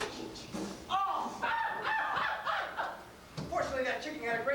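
A stage performer at an improv comedy open mic imitates a chicken, voicing a run of squawking, clucking calls in rhythmic bursts over a lively room.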